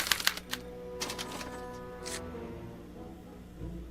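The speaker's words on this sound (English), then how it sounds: "they're relayed to this special typewriter, which prints out a punch card that represents the subject's mind map" A special typewriter in the Back to the Future video game prints out a punch card, giving a few sharp mechanical clacks and a whirring burst, faint and close, with no talking.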